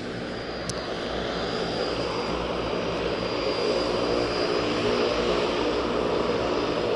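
A seaplane's propeller engine drones steadily at moderate distance on the water in Denmark, a continuous throaty hum that swells slightly toward the end.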